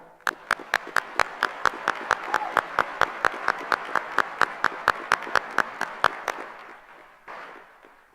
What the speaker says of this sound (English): Let's give one more round of applause for Elena and Sierra.